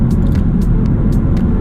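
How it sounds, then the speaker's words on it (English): Exhaust of a BMW M240i crackling behind a loud, deep engine drone, with a few sharp pops scattered over the steady rumble. "And then you can hear the exhaust crackling in the back"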